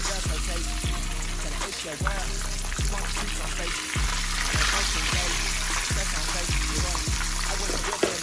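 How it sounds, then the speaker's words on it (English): Steady sizzling and crackling of fish frying in a pan, with a repeating rhythmic thumping pattern laid over it, close and continuous. "I'm frying fish"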